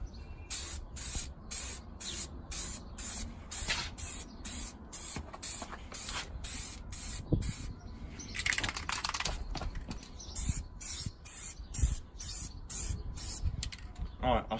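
Aerosol spray can laying a lacquer coat on a Renault Clio part, a long run of short hissing bursts in steady rhythm, close and loud, with faint clatter between sprays.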